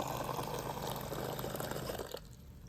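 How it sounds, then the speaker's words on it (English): Hotel gym water dispenser pours a steady stream of water close by for about two seconds, then cuts off abruptly, with a faint hum underneath. "Not only can you pick from hot, ambient, room temperature, or cold water"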